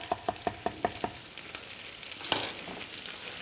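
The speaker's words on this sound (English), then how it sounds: "Throw the fat parsley in. Saute this together." Chopped flat parsley is sautéed with chorizo and butter and cannellini beans in a pan, giving a soft, close sizzle with a quick run of about six stirring taps and a later clack.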